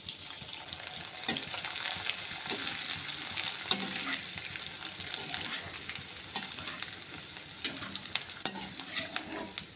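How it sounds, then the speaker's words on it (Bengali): Kurkure snacks frying in hot oil in a kadai, giving a steady close crackling sizzle with occasional stirring scrapes and small splashes throughout, no talking. "এখন কুরকুরেগুলোকে ভেজে নেব।"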